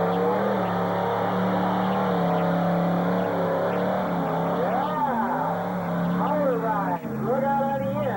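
Yellow Pontiac monster truck at a Byron Days show roaring loudly, engine holding a heavy drone then surging through several rev swells, heard from the stands amid crowd noise and voices.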